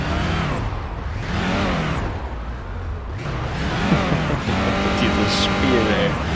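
A car engine in the Police Simulator: Patrol Officers video game revs and shifts through repeated rising and falling sweeps, loud and close, with a faint tire squeal and someone talking over it.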